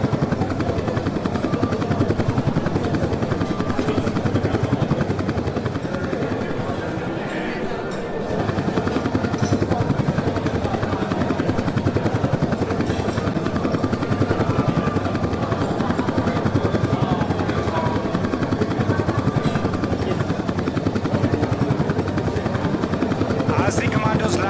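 A military helicopter hovers during a slithering operation at an air show, its rotor and engine roar loud and continuous throughout, with a public-address voice faintly underneath.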